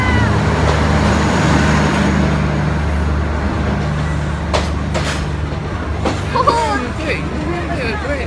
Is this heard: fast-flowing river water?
no